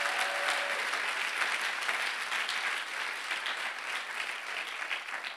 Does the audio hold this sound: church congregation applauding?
yes